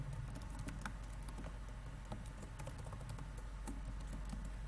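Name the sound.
typing code on a computer keyboard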